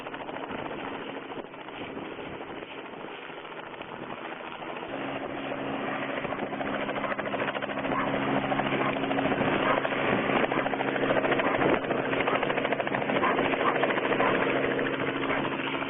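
A helicopter lifts off amid city streets, its rotor and engine making a loud, steady thumping drone that grows louder and holds strong throughout, with no voices heard.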